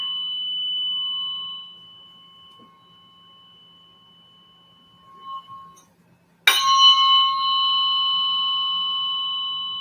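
Tuning forks in a biofield tuning session, one pure tone ringing and fading gradually before a second fork is struck sharply and sings out louder, the two clear tones sustaining together close by.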